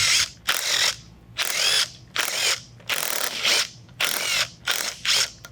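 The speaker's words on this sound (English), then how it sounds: "we can start taking loose just our 8 bolts." A ratchet loosening the eight bolts on the bearing housing of an RB500 centrifugal blower, heard as about seven close, loud bursts of rapid clicking pawl action separated by short pauses, with no talking.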